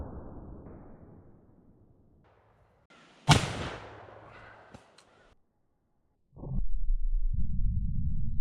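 A single loud shot from a lever-action rifle firing a 500 grain bullet, likely 45-70 or 50-110 with black powder or smokeless loads, sharp report outdoors with a decaying tail, followed by quieter handling and rumbling noise.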